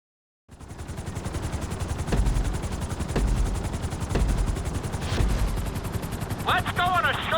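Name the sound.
helicopter flying in the video game Grand Theft Auto V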